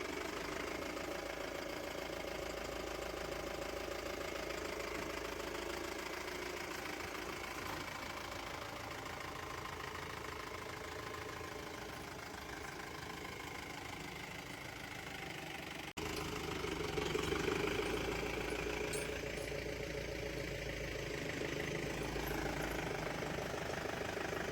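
A Maruti Suzuki Swift car engine idles with a steady, low mechanical hum and faint rhythmic knocking. The sound is continuous and close-miked, and the rumble grows slightly louder partway through.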